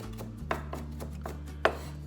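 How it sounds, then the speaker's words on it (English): A knife chops on a cutting board just used for herbs, giving a handful of crisp, close wooden taps at an uneven pace over a faint steady hum. "Now I'm cutting on this board where I just did the herbs"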